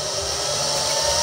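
A 12-volt, 1.2-ampere fan blower on a DIY waste oil stove runs with a steady, loud whirring hiss, constant and close, with no voices.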